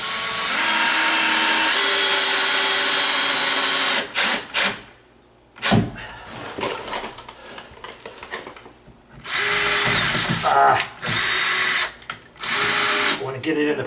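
A power drill drives a screw into a sagging double door, with several loud whirring bursts, short pauses and a stop-start rhythm up close, and brief talk between runs.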